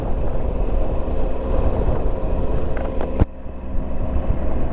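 Wind buffeting a microphone on a moving motorcycle, a loud, continuous low roar and rumble that stays steady, then drops off sharply near the end.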